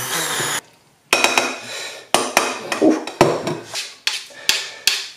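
Rice flour beaten with boiling water in a jug, giving a series of sharp, close scraping and knocking strokes of the utensil against the container, loud and irregular, with brief pauses between bursts.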